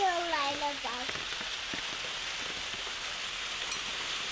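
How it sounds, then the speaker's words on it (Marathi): Rain begins to fall outdoors as a faint, steady, even hiss of drops, preceded by a brief sliding voice at the very start. "बघा, लगेच पाऊस पण सुरू झाला"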